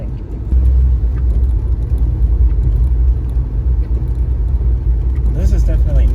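Constant low rumble of a classic car's engine and tires while driving through a blizzard, heard from inside the cabin, loud and steady with a faint whirring layer and no breaks.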